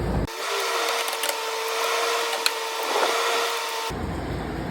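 A power driver whirs steadily for about three and a half seconds, fastening a seat slide bracket onto a Jeep XJ seat. It runs as one loud, even drone up close, then cuts off sharply.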